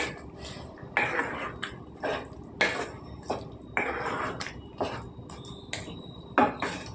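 Tomato puree made from three tomatoes being stirred in a pan for cauliflower and beans curry, giving repeated scraping and clinking strokes of a utensil against the pan in an irregular rhythm, close and moderately loud, with no talking.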